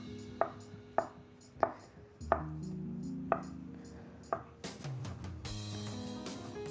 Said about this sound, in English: So here we have 250 grams of tofu. Chop this up really fine.